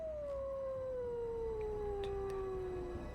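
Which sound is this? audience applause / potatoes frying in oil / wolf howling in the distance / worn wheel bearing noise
wolf howling in the distance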